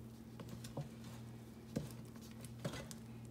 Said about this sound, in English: So let's just give this a good mix.